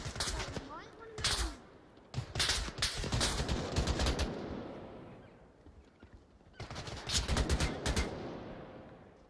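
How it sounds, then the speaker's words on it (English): Gunfire and a grenade launcher in the virtual-reality shooter Onward go off in bursts of sharp, loud reports separated by quieter gaps, with players talking over the shooting. "I shot my grenade launcher, it's straight over their heads"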